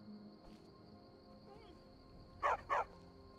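A dog in Skyrim gives two quick barks, a soft yip followed by a close, clear double bark over a faint steady game hum.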